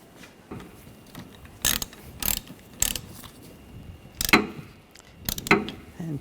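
A hand ratchet tightens a nut at the wiper arm of a 2013-2019 Ford Escape, giving several short, close clicking bursts spaced about half a second to a second apart over quiet background.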